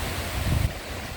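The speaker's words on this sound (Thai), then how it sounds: "คลื่น" Sea waves wash onto Chao Lao beach in the evening, a short, low rumbling surge with breezy wind noise.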